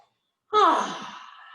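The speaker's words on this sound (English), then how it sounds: "a couple big sighs of relief" A single big sigh of relief during yoga, a close, voiced airy exhale that starts strong and trails off gradually.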